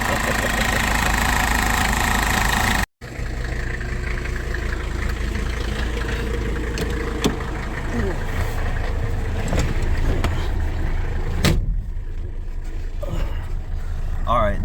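A Mercedes W123 idles steadily after starting, a continuous mid-low engine drone with a brief cutout near the start and occasional small knocks and clatters over it, close to the mic.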